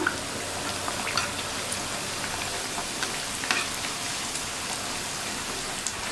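Rava snacks fry in hot oil over a low flame, giving a steady, even crackle and sizzle with scattered small pops, close by and without talk.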